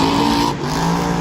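Monster truck at Monster Jam in Orlando, Florida, roaring over the final jump in a race, a loud sustained engine howl that dips briefly midway, then surges again.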